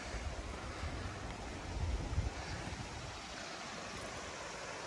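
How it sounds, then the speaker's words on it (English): Mountain river rapids near a cabin in Gatlinburg, Tennessee, rush over rocks in a steady broadband roar with a brief swell midway. The water sounds moderately close, and no voices are heard. "There's the rapids."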